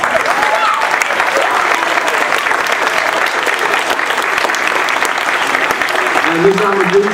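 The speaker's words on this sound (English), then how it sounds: "So let's clap for him." A school audience at a Space Week opening claps steadily and loudly throughout, a dense wash of applause with a faint voice surfacing near the end.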